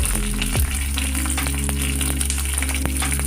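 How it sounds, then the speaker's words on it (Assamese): Chopped onions frying in hot oil on a medium gas flame, a loud dense steady sizzle with a low burner hum and occasional soft stirring taps, close by with no talking. "তেলখিনি ভালদৰে পকিলে এতিয়া ইয়াতে কাটি লোৱা পিঁয়াজ দি দিছোঁ।"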